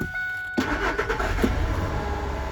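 A 2001 Ford F-150 pickup engine cranks briefly and catches, then settles into a steady close idle.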